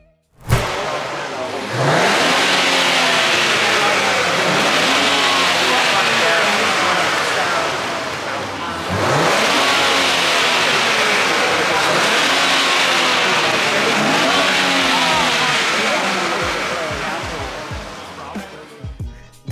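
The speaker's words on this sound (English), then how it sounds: "This exhaust sound will come from the VR30 DDTT, which is the same engine in the Q60 Red Sport" A 2023 Nissan Z with the twin-turbo VR30DDTT V6 revs its exhaust inside a garage, loud repeated rising and falling revs in two long sweeps with sharp throttle blips near the end.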